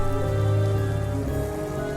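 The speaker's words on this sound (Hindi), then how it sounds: "मुझे नहीं लगता आज ये बारिश थमने वाली है" Heavy rain falling steadily, a dense continuous hiss of drops hitting surfaces, loud and close with no voices.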